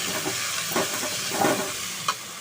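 Urad dal and curry leaves sautéing in oil over a medium flame: a close, continuous hissing sizzle with a few soft stirring scrapes, no voices.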